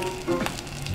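Cod fillets pan-frying in hot oil give a steady, soft sizzle with faint crackle, close and continuous and heard alone.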